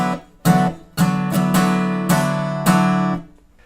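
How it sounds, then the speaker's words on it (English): Solo acoustic guitar plays the strumming pattern from a song, a handful of ringing chord strums in a lilting, uneven rhythm, close and clear with no talking, the last chord decaying away. "And the strumming pattern goes down, down, down, up, down, down, down."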